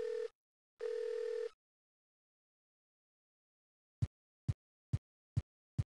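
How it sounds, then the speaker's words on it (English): Telephone sounds in the Nightmare Ned video game: two short dial-tone bursts, a pause, then five crisp evenly spaced dialing beeps. "Do you know how much this phone call is gonna cost?"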